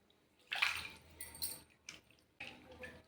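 Tamarind water is poured into a stuffed brinjal curry in a home kitchen: two short, soft splashing pours about two seconds apart, close and fairly quiet, with no talking.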